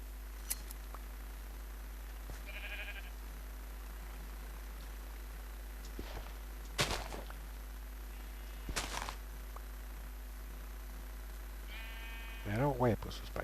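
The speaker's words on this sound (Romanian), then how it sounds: "Era o oaie pe sus pe aici." Sheep in the Minecraft video game bleat faintly a couple of times, short wavering calls with a louder one near the end, among quiet clicks and thumps.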